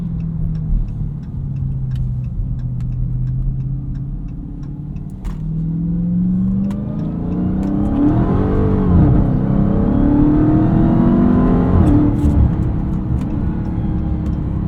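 A 2023 Dodge Charger Hellcat Widebody Jailbreak in a low gear, heard from inside, rumbles at a steady pace, then revs up into a loud, rising supercharged engine roar with sharp shift-like ticks throughout.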